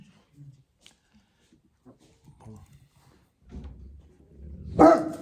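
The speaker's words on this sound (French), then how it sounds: "Il y a un chien, c'est pour la vidéo là." Dog gives a single loud bark near the end after quiet stretches of soft indoor talk and shuffling.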